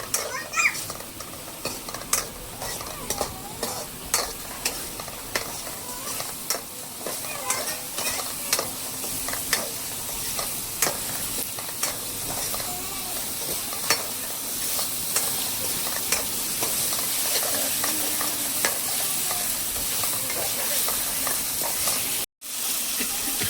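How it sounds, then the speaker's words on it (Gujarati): Gravy for a palvo dish simmers and sizzles in a pan while a spoon stirs it steadily, with scraping strokes recurring every second or so over a continuous frying hiss throughout. "હવે આ ગ્રેવી છે ને મિત્રો 2 થી 3 મિનિટ હાવ એટલે હાવ પકાવી લેવાની છે આપણે"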